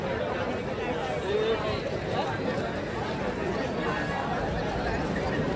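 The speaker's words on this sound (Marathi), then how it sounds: "बघता बघता गर्दी एवढी जाम झाली आहे ना" A dense crowd of fans packs a jammed street outside a hotel, hoping to meet the Indian cricket team, and fills the air with a steady, continuous babble of many overlapping voices at an even level throughout.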